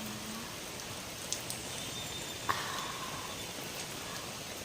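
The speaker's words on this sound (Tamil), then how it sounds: "அப்படியே அழகாக மழையாக கொட்டுது" Steady hill drizzle falls in a hushed, even patter of rain, soft and continuous with a couple of tiny isolated drop ticks, and no voices.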